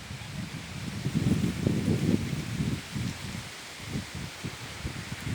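Wind blowing through a sugarcane field in May, a soft rushing rustle of leaves with gusty low buffeting that swells in the first half, then eases, with no talk.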